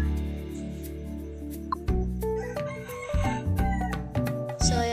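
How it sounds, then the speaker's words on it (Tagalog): A rooster crows nearby at a home where cooking is underway, giving loud, drawn-out harmonic calls with a few sharp, choppy breaks. "tilahok ng manok"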